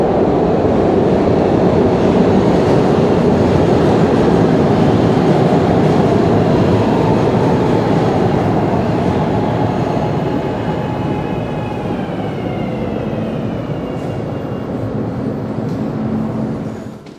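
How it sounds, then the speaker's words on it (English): Subway train in a Philadelphia subway station, a loud sustained rumble and rattle of railcars rolling through, with squealing wheel tones emerging as the noise eases slightly toward the end. "Philadelphia's subway station."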